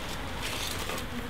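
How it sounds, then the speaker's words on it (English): Wild bees buzzing steadily from a hive lodged in a house chimney, a dense continuous hum heard up close with no talk over it. "You silly bloody bees."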